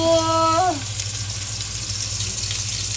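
Meat frying gently on low heat, a steady soft sizzle filling the whole clip after a brief tonal chime fades out in the first second.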